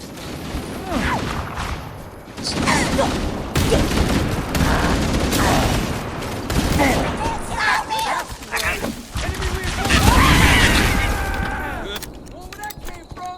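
Gunfire in Halo: Combat Evolved rattles through a dense, busy firefight, with repeated shots and thumps mixed together with shouted voices and game sound throughout.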